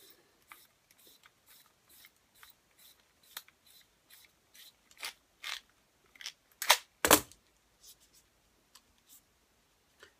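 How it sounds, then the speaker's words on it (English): Scissors snip an empty 35mm film cassette free from its film, with sparse dry clicks and small snips building to two louder close cuts near the end, heard alone in a quiet room. "cut the now empty cassette away, which leaves you with a new backwards spooled piece"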